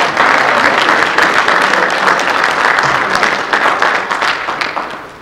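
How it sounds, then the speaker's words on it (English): Audience applause for a prominent African American author at a talk, a dense, steady clapping that stays loud for several seconds before easing slightly near the end, with no voices over it. "So I think that deserves a round of applause."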